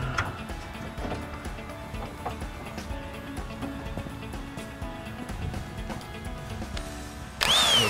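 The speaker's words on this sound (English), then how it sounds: "We'll tighten them up to all 4 corners." A power tool runs steadily and up close as metric mounting bolts are driven in on a Titan after-axle tank fitted to a 2014 Ford Powerstroke, with faint clicking and a brief higher-pitched burst at the end.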